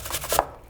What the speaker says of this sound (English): I'm just gonna grate the apple right into the sausage.